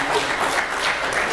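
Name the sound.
men in the congregation clapping during a sermon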